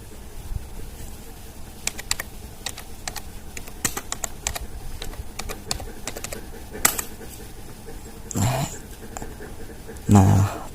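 Typing on a computer keyboard on an Ubuntu machine, a steady patter of close, light key clicks with a few sharper taps, and a dog panting and whimpering softly in the background.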